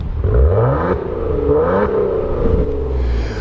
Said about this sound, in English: So I just put it in sport mode. I'm going to rev it again.